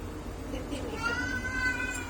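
Hungry cats meow for food in a condo kitchen, several plaintive cries rising over a soft background, with faint voices nearby.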